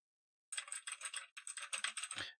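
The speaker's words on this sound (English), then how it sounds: "Like even now, if I type on my keyboard," Quick bursts of clicky keystrokes on a mechanical computer keyboard, close and fairly crisp, in two runs separated by a short pause, ending with a duller thump, with no voice.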